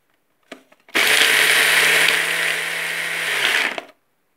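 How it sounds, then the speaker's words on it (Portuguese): A small electric mini chopper grinding almonds into powder whirs loudly for about three seconds after a couple of clicks, its motor grinding steadily before cutting off into silence. "mini triturador e vou triturar essa amêndoa até ela virar um pozinho."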